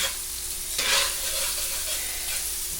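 Rice being stirred into bacon and onions in a pot, with a steady close sizzle and a scraping stir that swells briefly near the start, then settles into continuous frying.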